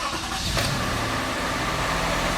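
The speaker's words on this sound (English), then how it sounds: "When you run the engine, always make sure you are in well ventilated area." A Toyota Sienna minivan engine cranks and catches right after an oil change, then settles into a steady, loud idle that hums on without a break and with no voices.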